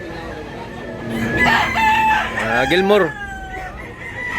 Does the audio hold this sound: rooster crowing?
yes